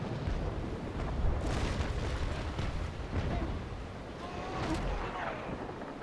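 Broadside cannon fire from a sailing warship in the naval battle game Naval Action, a continuous dense rumble of booming shots and crackling blasts at steady loudness, with a sharper burst near the end.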